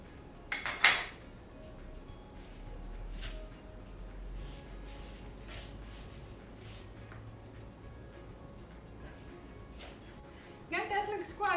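A fork works soft butter into dough in a bowl, giving faint scraping and a few sharp clinks of metal on the bowl near the start and end, while someone speaks quietly.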